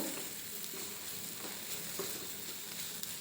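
Chili powder, turmeric and coriander powder sauté in a pan with a faint, continuous low sizzle and occasional soft stirring scrapes. No one speaks.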